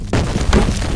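A grenade detonates in the F.E.A.R. shooter game, a single loud, close boom with a sharp onset, followed by a heavy low rumble that sustains through the rest of the moment.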